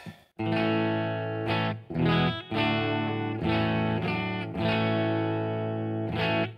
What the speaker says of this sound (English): I'm playing through my Epiphone Dot. This is the bridge pickup.